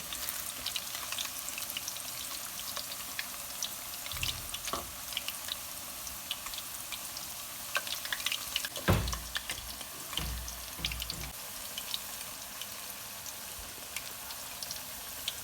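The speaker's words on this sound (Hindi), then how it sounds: "ये देखें एक साइड इसकी फ्राई हो चुकी है पकोड़ों की और मैं इसको उल्ट पुलट कर रही हूँ।" Mixed vegetable pakoras fry in hot oil and get turned over with a spoon. A faint, steady sizzle runs throughout, with a few soft clinks and scrapes around the middle and latter part.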